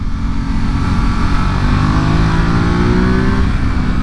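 A loud 2023 Ducati SuperSport 950 S twin-cylinder motorcycle engine accelerates steadily, its drone rising in pitch as it pulls hard, close by and continuous.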